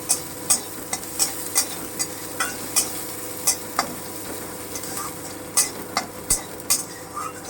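Chopped onion fries lightly in a pan with a soft continuous sizzle, broken by frequent crisp clicks and scrapes of a utensil stirring against the metal.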